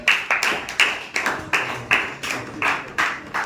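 Steady rhythmic clapping from a quiz audience, about nine sharp, fairly close claps spaced evenly in a regular beat with no talking.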